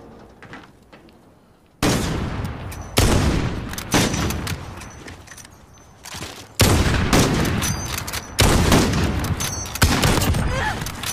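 Sniper rifle shots in a Modern Warfare one-on-one match, a series of loud, booming cracks each followed by a long decaying tail, spaced a second or two apart, with faint talk in the gaps.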